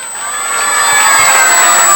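Loud applause mixed with cheering and children's shouts from an audience at a school award ceremony and drama event, building over the first half and then holding steady as a dense crowd roar.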